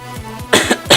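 A person coughs while playing Geometry Dash, three or four short harsh bursts in quick succession over a quiet background, the last ones loudest and closest.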